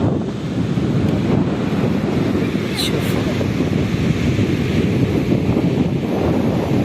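Strong wind buffets the microphone at a cold seaside while waves and surf roar steadily throughout, with a person talking briefly over the noise.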